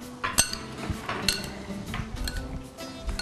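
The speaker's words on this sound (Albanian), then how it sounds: "I trazojmë të gjitha këto së bashku." A spoon stirs a bowl of salad ingredients, giving repeated close clinks and scrapes against the dish at an uneven rhythm over a few seconds, with no talking.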